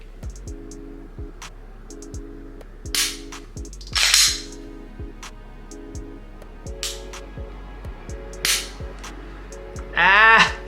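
A new Glock 17 Gen 5 pistol is dry-fired repeatedly, giving a run of sharp, close trigger clicks at a steady rhythm, with louder bursts of handling noise in between as the slide is racked.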